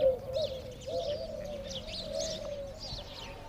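Pigeons and doves coo steadily while gathering at feeding time in a Bishnoi village, with soft repeated calls layered under higher chirps from other birds nearby.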